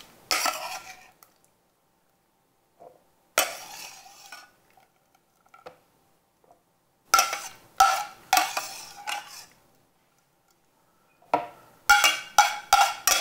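Cooked habanero chili solids are spooned into a blender jar in a home kitchen: a few short clusters of clinking metal spoon against pot and jar, separated by quiet pauses, close and fairly loud.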